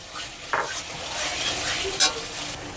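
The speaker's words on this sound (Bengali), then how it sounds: "মশলাটা কষাতে হবে। খুব ভালো করে আমি মিশিয়ে নেব।" Spice paste for a Bengali rui fish malai curry being stirred and fried in a pan, a steady soft sizzle with scraping stirs and a couple of sharper utensil knocks against the pot, close and without talk.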